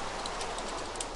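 Steady, hissing rain falls in a video game, an even wash of noise with no voices.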